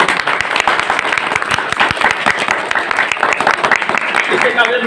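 Audience applause welcoming a garlanding at a Hindi-speaking community gathering, a dense, sustained patter of many hands clapping steadily and loudly throughout, close and continuous.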